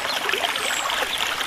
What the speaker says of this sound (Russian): вдоль Дантовой лестницы течет ручей Ключевой